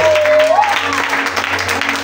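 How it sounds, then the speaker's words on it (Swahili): A church congregation claps for Jesus at a Swahili Pentecost service, a steady wash of many hands under a brief tonal voice at the start. "Kama umeelewa, piga makofi mengi kwa Yesu"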